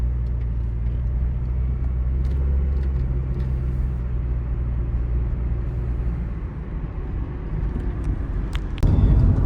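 A fifth-generation Honda Prelude drives along steadily with a low engine rumble and road noise from inside the cabin, followed by a brief clunk near the end.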